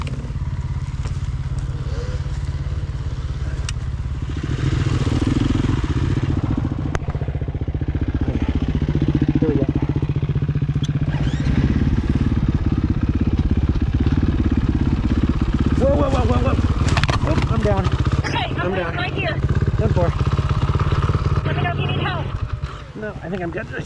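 A dual sport motorcycle engine idles and revs steadily on a mountain trail ride, loud and close throughout, with people talking over it.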